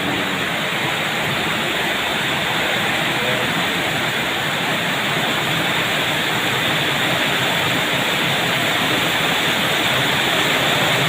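Floodwater rushes behind a flooded house after rain, a constant dense wash of flowing water, loud and unbroken, with no voices heard over it.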